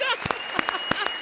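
Studio audience clapping at a Hindi comedy circus show, short bursts of applause mixed with loud cheers and a voice in the background.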